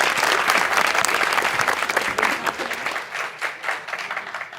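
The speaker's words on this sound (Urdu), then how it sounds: "ڈھیر ساری تالیاں." Sustained audience applause fills a studio Eid special mushaira show as a guest poet is welcomed, loud and dense at first, then thinning into scattered claps toward the end, with no talk over it.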